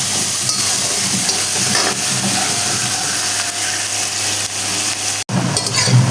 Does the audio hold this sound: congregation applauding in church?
no